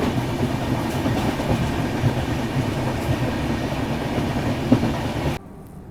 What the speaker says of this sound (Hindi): पीछे से चेस करती हुई आ रही है भुवनेश्वर तेजस राजधानी एक्सप्रेस 130 पे फ्लैट।